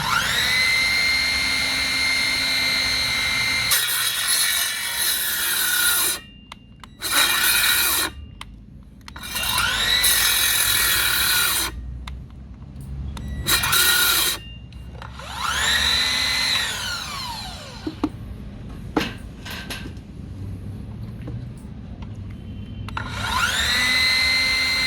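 Small 6-inch Klatter circular saw cutting through wood: a loud, sustained whining cut broken by several short pauses as the blade spins down and starts again, running the whole time with no talking.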